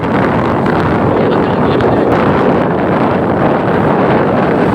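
Heavy wind buffets the microphone in a loud, constant roar, burying the engine of a moving motorbike underneath, on a ride to a fair.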